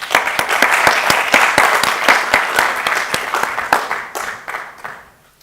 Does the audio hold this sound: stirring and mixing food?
no